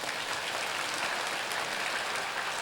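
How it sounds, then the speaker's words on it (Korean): A Korean church congregation clapping during a Sunday service, dense rapid applause-like patter from many hands, continuous and even, with no talk on top. "박수 치면 다 쳐봐"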